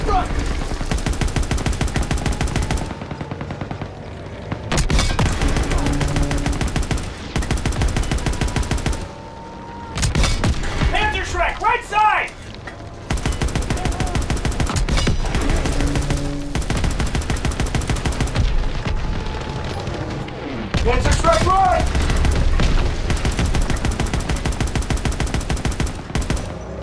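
Call of Duty WWII battle gunfire: loud, sustained bursts of automatic weapons fire repeat in long stretches, broken by brief pauses, with occasional voice chatter in between.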